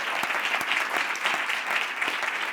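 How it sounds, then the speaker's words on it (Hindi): Loud, continuous audience applause at an indoor public speaking session, many hands clapping in a dense, even wash with a few sharper individual claps standing out close by. "इसके लिए जोरदार तालियों के साथ।"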